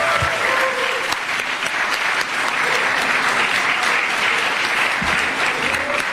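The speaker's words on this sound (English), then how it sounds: "A really warm round of applause for His Excellency" A large crowd at Kenya's State House applauds steadily and loudly, a dense wash of clapping that fills the whole stretch without letting up.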